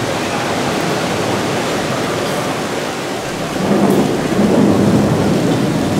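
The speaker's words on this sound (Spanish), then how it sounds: "Se escuchan los truenos." Steady heavy rain hisses throughout outside a hotel in Manzanillo, Colima, with a low rumble of thunder swelling in the second half, loud and continuous with no voices.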